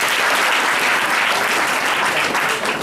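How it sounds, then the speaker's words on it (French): A large conference audience claps steadily and loudly throughout, a thick, even wash of applause with no voices standing out. "donc applaudissez pour les billets"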